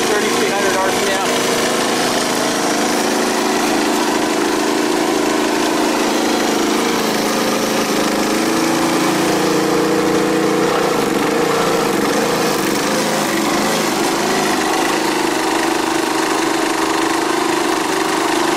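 An Energizer eZV3200P portable generator runs at a steady, loud, close engine drone, holding an even hum with a slight shift in pitch partway through.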